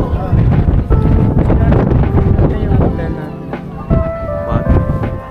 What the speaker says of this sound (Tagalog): Sobrang hangin, guys.